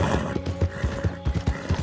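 A horse in the video game Red Dead Redemption 2 performs a trick, with rhythmic stamping hoofbeats and mechanical clattering close up, about a dozen thumps over under two seconds.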